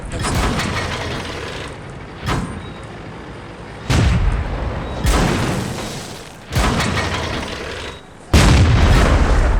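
Tank guns fire in World of Tanks, loud booming shots arriving roughly every one to two seconds, each followed by a rumbling decay over steady engine and battle noise.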